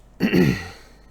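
A single short, rough throat clearing, close and fairly loud, fading quickly into quiet.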